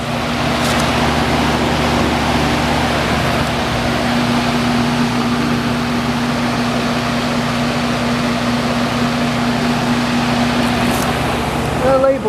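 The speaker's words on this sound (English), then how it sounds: "here is the Goodman running" A Goodman HVAC outdoor unit runs in heat mode on a cold day, its rusty fan motor giving a loud, steady whoosh with a constant low hum.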